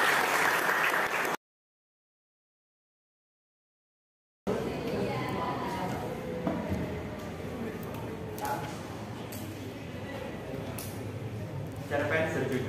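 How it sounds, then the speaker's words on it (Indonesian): Students clapping in a classroom during a school lesson, a dense burst of applause cut by a gap of silence, then continuing with classroom noise and voices mixed in. "Beri tepuk tangan semuanya."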